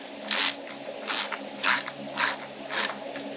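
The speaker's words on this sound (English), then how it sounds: "Gonna tighten this just a hair more." A ratchet wrench clicks in five short bursts as a fastener is tightened on a Lexus RC F during a supercharger install, loud, close and evenly spaced, heard alone.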